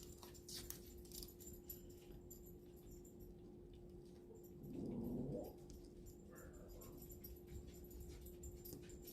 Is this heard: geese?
no